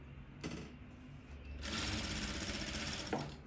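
Close by, a straight-stitch sewing machine sews trouser fabric. It starts in short bursts, then settles into a steady rapid stitching hum that stops near the end.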